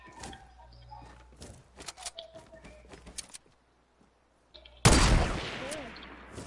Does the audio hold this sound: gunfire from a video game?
yes